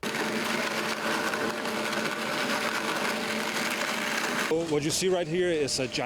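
A giant 3D printer lays down a mixed building material at a school construction site on Varshavska Street in Lviv, giving a steady mechanical whir and buzz that runs continuously, then shifts to a more uneven, warbling tone near the end.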